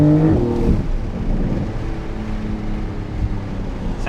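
A 2023 Porsche 911 GTS engine revs loudly from inside the car, with a PDK gearbox shifting in manual mode, giving a strong steady drone whose pitch drops after an early surge and holds under the cabin rumble.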